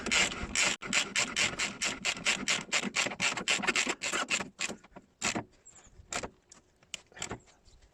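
A ratchet and socket turn the nut on a polyurethane suspension bush in a car's front end, giving a close run of quick, even rasping clicks that thin out into a few slower, separate clicks.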